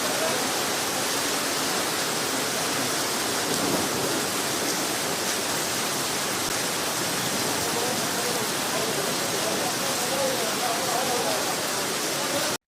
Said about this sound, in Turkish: Şiddetli sağanak yağışla birlikte yıldırım düştüğü bir palmiye ağacında yangın çıktı.